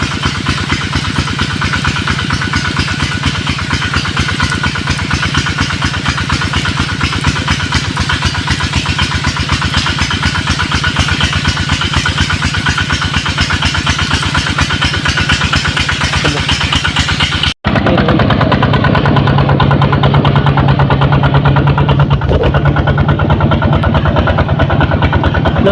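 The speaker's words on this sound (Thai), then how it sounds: "รถซิ่งนี่ไปได้เนาะทุกคนขึ้นสบายเนาะ" A vehicle engine labours up a steep, slippery dirt road in rural Laos, running steadily and fairly loud throughout, with a sharp cut partway and a rougher, revving tone afterward.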